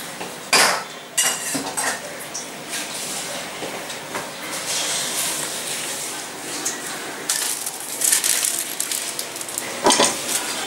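A pot of Hyderabadi kachche gosht biryani is covered: several sharp metallic clanks of lid and utensils, loudest near the start and end, over a steady hissy background.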